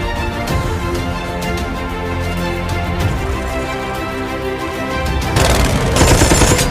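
Shootout gunfire from a heist film's car chase: bursts of rapid automatic shots over a busy, loud action soundtrack, growing more intense toward the end, with no talk.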